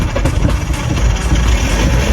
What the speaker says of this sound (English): Look at the engine running very smoothly now!